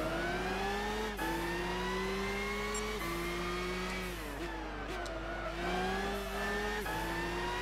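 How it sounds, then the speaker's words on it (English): Audi Quattro S1 Group B rally car in Gran Turismo 6 at Goodwood Festival of Speed, its engine droning and revving steadily with repeated sharp pitch drops at gear shifts, loud and continuous throughout. "The Audi Quattro S1. This is a classic rally car in the Group BC."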